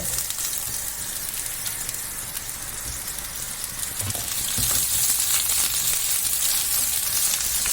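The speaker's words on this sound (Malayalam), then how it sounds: "ഇനി ഒരു ചെറുങ്ങനെ 3 തുള വെളുത്തുള്ളി ഇടുന്നുണ്ട്. അതിലേക്ക് ഒരു വലിയ ഉള്ളി നേരിയതാക്കി മുറിച്ചത് അത് ഇടുന്നുണ്ട്." Three cloves of garlic and a thinly sliced large onion fry in a pan with a loud, close, steady sizzle like rain. The crackle swells noticeably about halfway through and stays strong.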